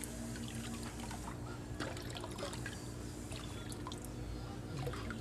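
Water is poured into a fish tank holding marine water, giving a soft, continuous trickling and splashing at close range, quiet and steady with small drips.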